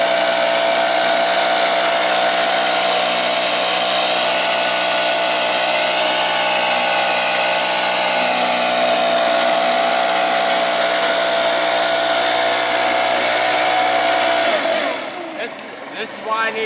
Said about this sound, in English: Two blowers. You can use one on one side and one on the other.